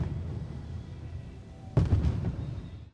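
A single sharp firework burst cracks out after a low steady background rumble, followed by a short crackling tail.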